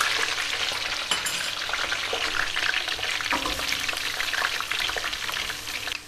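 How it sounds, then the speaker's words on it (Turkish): Eggplant pieces fry in hot oil in a pot, giving a dense, continuous sizzle with occasional crackles and stirring clinks, close and steady throughout. "Hemen patlıcanlarımı üçer tane üçer tane tencereme katıyorum. Kızarmaya başlasın."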